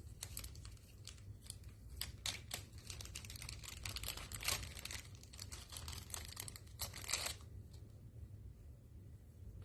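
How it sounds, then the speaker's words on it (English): A plastic baggie being opened for a paper card-making kit: close, bright crinkling and rustling in quick bursts, steady for several seconds before tapering off, with no voices. "I gotta get the baggie open first."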